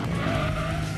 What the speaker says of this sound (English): I just pulled the handbrake, because why not?